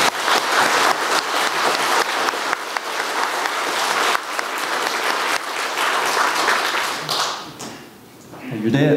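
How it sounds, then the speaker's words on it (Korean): A church congregation at a Sunday service claps in a loud, sustained round of applause for several seconds before it fades away near the end. "우리 큰 박수로 영광을 돌리시기 바랍니다"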